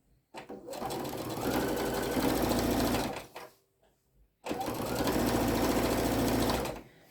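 A sewing machine stitches around a fabric welding cap in two long bursts of rapid, even needle chatter, separated by a brief pause with faint handling sounds, close and clear.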